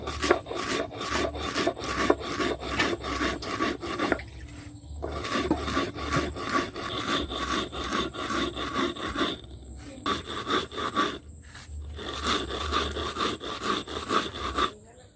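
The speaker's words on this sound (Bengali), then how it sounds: "চালগুলো বেটে গুঁড়ো করে নেব।" Roasted rice is ground into powder with a rhythmic rasping rub, quick regular back-and-forth strokes in close bursts separated by short pauses.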